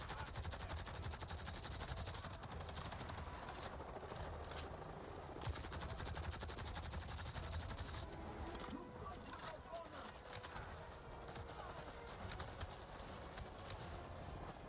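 Rapid gunfire rattles in Avatar Frontiers of Pandora, dense repeated shots over a busy combat soundscape with a voice talking over it.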